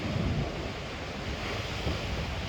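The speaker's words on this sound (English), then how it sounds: "I hope that the wind is not too loud." Wind buffets a microphone outdoors near ocean surf, giving a steady, loud rumbling roar of broadband noise throughout, with no speech.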